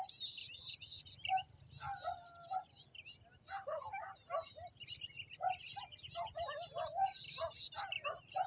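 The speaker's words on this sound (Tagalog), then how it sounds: "Ang sarap pakinggan ng mga huni ng ibon" Outdoor ambience of birds chirping and calling in short bursts over a steady high insect drone, fairly faint and distant.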